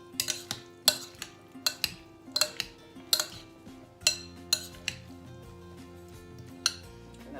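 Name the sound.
mixing salmon poke in a bowl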